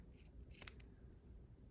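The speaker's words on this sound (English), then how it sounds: "I'm just going to take my scissors and I'm going to get it as close as I can to the seam without cutting the" Scissors snip through fabric right beside a strap seam during a clothing repair, giving a few close, crisp cutting clicks over a quiet, steady background.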